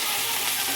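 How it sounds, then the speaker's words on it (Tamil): Sliced onions frying golden in a pan for kara chutney give off a steady, close sizzle with a dense hiss and no pauses across a brief moment. "வெங்காயம் நல்லா பொன்னிறமாக வதங்கிடுச்சு."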